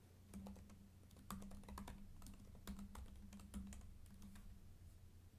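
Typing on a computer keyboard while writing code, with quick irregular key clicks and taps in short bursts over a low steady hum, close but quiet, no talk.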